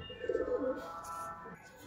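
A pigeon coos after release, a short low burbling call near the start, then quieter ambient sound with faint rustles.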